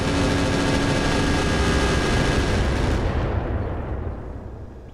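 Heavy weapons fire roars continuously in the Roguetech BattleTech mech video game, a loud dense rumble of cannon blasts and engine noise that fades toward the end.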